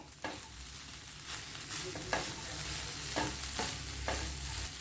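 A spatula scrapes and stirs egg bread kothu with freshly added coriander in a hot pan, giving repeated sharp scraping strokes over a steady low sizzle, close and clear with no talking.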